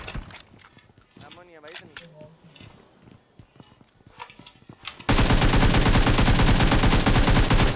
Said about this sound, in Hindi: ऊपर वाले फ्लोर पे रैंडम फायर कर रहा हूं